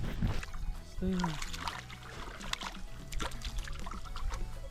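A canoe paddled on a mountain pond in the White Mountains while a passenger casts a fishing line, with soft water trickles and paddle dips close by and low voices talking through it.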